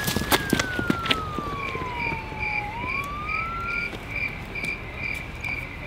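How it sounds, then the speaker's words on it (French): A single Quebec police car siren tone sweeps downward and then rises again, heard at a distance over a steady, pulsing chorus of crickets. "Quand t'entends une sirène de police au Québec"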